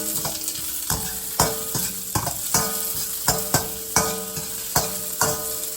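Mushrooms sizzle in a hot pan for chow mein while a utensil stirs them, giving sharp scraping strikes at a steady rhythm of roughly one per second over a constant frying hiss, close and clear.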